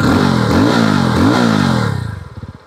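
A 350cc motorcycle with its stock exhaust revs up loud and close, the engine note climbing and falling through several throttle blips before dropping back and fading out.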